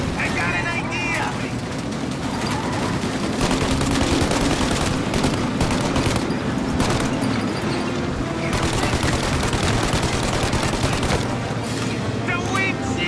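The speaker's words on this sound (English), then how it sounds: "Shoot out the windshield!" Rapid gunfire in the Mafia: Definitive Edition video game as shots are aimed at a car windshield during a countryside ambush, dense sustained bursts of automatic fire over engine noise, with shouting voices mixed in.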